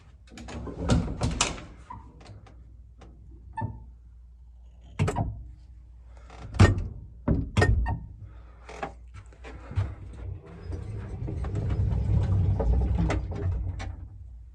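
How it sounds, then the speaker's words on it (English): A very small modernized Montgomery passenger elevator in Evanston, Illinois, gives off scattered knocks, clunks and sliding rumbles as its door and mechanism work, then a steadier low rumble of motion, heard close and without talk. "Very small Montgomery elevator."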